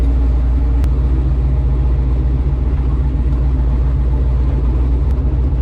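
Turbocharged Chevrolet S10 truck engine rumbles steadily from inside the cramped cab during a ride, a loud, continuous low drone with a couple of faint clicks, and no talking.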